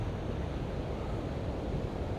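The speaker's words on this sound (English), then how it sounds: "And it's a little bit windy." Steady, roaring wind buffets the microphone on a beach at the Runnels on the Holderness coast, a continuous broadband rumble with a faint wash of surf beneath it and no voices.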